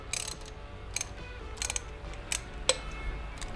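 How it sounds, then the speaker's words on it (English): Ratchet wrench clicking in short bursts while loosening an 8 mm bolt on the rear cylinder head of a Vulcan 750 motorcycle engine, several quick close ratcheting runs separated by brief pauses. "I need to take out this bolt and this bolt on the rear head"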